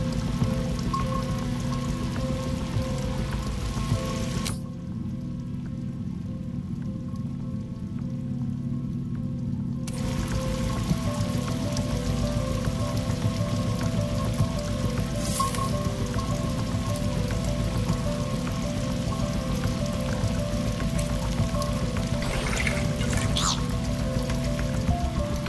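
Water from a bullet-riddled aquarium in the Bright Paw game pours in a steady, hissing stream, with a brief quiet gap partway through and no talking.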